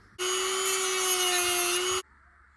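A power tool grinds a small plastic ridge off an RC portal axle from a WPL C-64 truck, one steady close whine lasting about two seconds with a sharp start and stop, followed by quiet.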